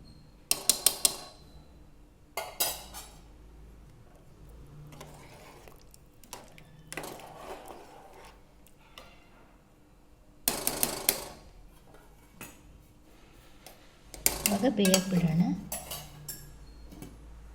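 Coriander, mint and a spoon of butter go into a veg biryani pot, with scattered metallic clinks and scrapes of a spoon against the pot in short bursts, close and moderately loud.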